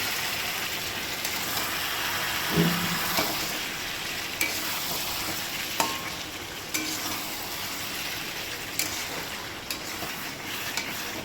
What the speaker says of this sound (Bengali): চলো এটা ততক্ষণ কষা হতে থাক।